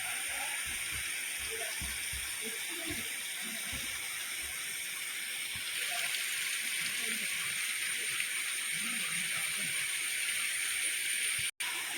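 Spring water streams down from beneath a cave at Kochareekkal Caves into a pond, an unbroken hissing rush of flowing water, close and steady from start to finish.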